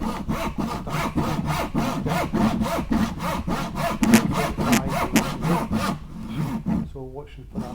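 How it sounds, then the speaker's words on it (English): A hand saw cuts a piece of timber at 45 degrees in a steady back-and-forth rhythm of close, rasping wooden strokes. The strokes stop near the end, leaving a faint voice. "flip the piece of timber round to 45 degrees, opposite direction, and then cut the second part of the cut"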